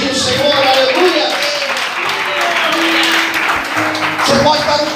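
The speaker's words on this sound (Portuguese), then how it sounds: "Você pode aplaudir o Senhor." A church congregation claps loudly and continuously in a dense, close burst of applause, with voices calling out over it.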